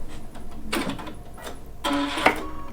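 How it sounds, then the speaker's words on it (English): A Baby Lock sewing machine with a fringe looping foot ties off a satin stitch and trims the thread, two short mechanical whirring bursts with clicks between quieter pauses, close and alone. "I'm going to tie it off and have it cut the thread."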